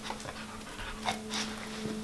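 A dog pants rhythmically and close up during an obedience trick session, with quick, regular breaths.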